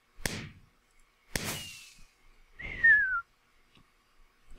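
A whistling firework effect in a video game map editor: two sharp pops, then a descending whistle that glides downward and cuts off. Fairly close, with no speech.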